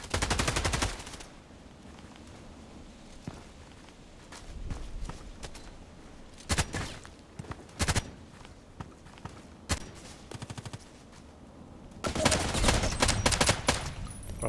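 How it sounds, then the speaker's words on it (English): HK 243 light machine gun fired in single shots and short bursts in the shooter game Contract Wars, loud sharp cracks spaced irregularly between quieter footsteps, with heavier sustained firing at the start and end. "But I can go on single shot, what I do now."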